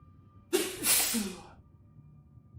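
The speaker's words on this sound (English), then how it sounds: "I had to sneeze there" A single sharp sneeze close to the microphone, a quick burst and a breathy release, then quiet room tone during a live Total War Saga: Troy strategy game session.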